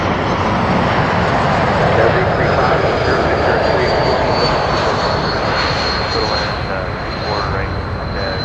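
The 220 airliner passes at Toronto Pearson airport with a loud, steady engine roar and a high whine that holds for the full stretch, with a voice talking underneath.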